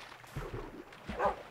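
A pet wolf in Minecraft gives a few short, clipped barks spaced across a brief moment, fairly close and moderately loud against a faint game background.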